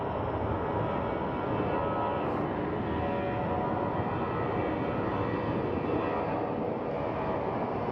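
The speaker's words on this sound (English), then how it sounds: "in the background, that is our" A Chicago-bound airliner at Phoenix Sky Harbor Airport fills the background with a continuous, even jet engine roar, broadband and steady throughout with no voices.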